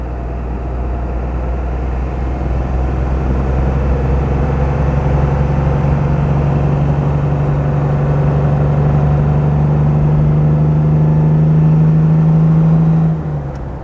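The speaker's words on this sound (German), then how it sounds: "Die Maschine hat genug Druck, hier schön hochzukommen." A 1955 Mercedes 300 b Cabriolet D with a 3-litre engine climbing uphill: a steady, loud, low engine drone under load that holds for about thirteen seconds, rising slightly in pitch before it drops away at the end, with no talk.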